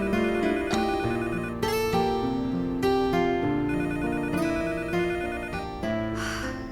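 A telephone rings in a dubbed Turkish drama, a steady electronic ringtone with repeating melodic tones, loud and close, playing alone without voices and fading slightly toward the end.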